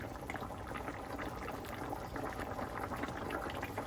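Curry oxtail simmers in a pot, a steady close bubbling and gurgling of liquid that continues evenly without any talking.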